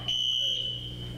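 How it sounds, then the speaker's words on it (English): A jail fire alarm set off for a training drill sounds as a piercing, steady high-pitched electronic tone, loud and continuous over a low background hum. "this siren was deliberately set off by sheriff deputies for a training drill"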